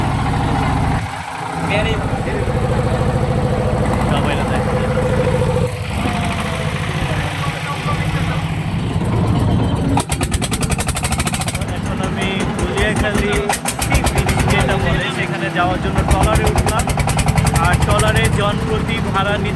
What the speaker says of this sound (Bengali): এই যে আর একটা বোট আসছে